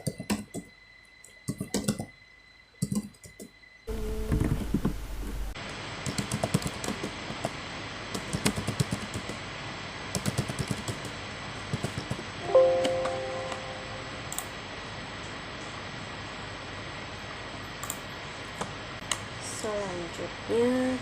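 Computer keyboard typing commands for configuring a Cisco network switch: scattered light key clicks in short bursts, close and fairly quiet, with a person talking over much of it.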